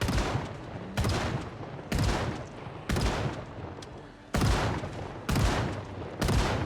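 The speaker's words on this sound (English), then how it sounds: "That's why we brought the shotgun" Shotgun blasts tear into a zombie horde in Project Zomboid, about seven loud booming shots fired in rapid succession roughly a second apart, each with a long noisy tail, and no talking.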